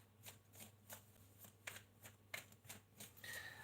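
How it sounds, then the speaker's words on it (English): Tarot cards being shuffled by hand in a rapid, uneven series of soft riffling snaps, close and quiet with no talk over them. "before I keep shuffling"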